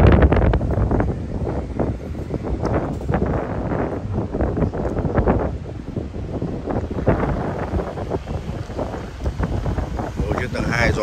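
Strong wind blows steadily across the microphone at a seaside restaurant, a loud continuous rush with gusty swells, while people talk close by throughout.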